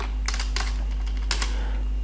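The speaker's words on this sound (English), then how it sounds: "Now type the command fastboot space flash space dtbo space dtbo.img. press enter key." A few short bursts of keypresses on a computer keyboard as a fastboot command is entered for flashing a Pixel 6A, clicks clustered in quick groups over a steady low hum, with no talking.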